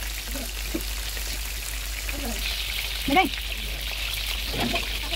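Chicken fries sizzling in a pan of hot oil, a constant fine crackle with a few brief spits and clicks, while a voice speaks faintly now and then.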